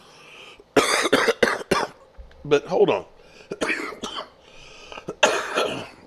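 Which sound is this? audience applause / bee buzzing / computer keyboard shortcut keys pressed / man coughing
man coughing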